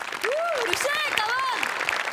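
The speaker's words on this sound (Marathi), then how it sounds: "त्यासाठी या डिटेलिंगसाठी खूप खूप खूप टाळ्या" An audience applauds at a live Marathi comedy stage show, steady clapping over which a voice exclaims and speaks loudly throughout.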